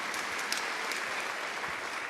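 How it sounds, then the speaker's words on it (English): A theatre audience claps continuously at a birthday celebration for the Imperial Theatre, a dense, steady wash of applause filling the room without pause. "Give yourself a big round of applause."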